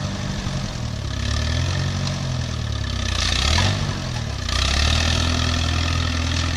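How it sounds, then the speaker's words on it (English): A farm tractor clearing greenery near trees runs close by with a steady mid-to-low engine rumble that swells and eases as the throttle changes, with no talk over it. "he's popping wheelies in that tractor."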